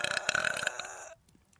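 A vtuber lets out a loud, close, raspy burp lasting about a second, then it cuts off into near silence.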